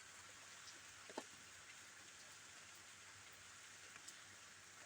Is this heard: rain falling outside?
yes